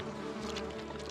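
Wild bees swarm with a dense, continuous buzz near a waterhole where an animal seeks honey, a brief loud close hum.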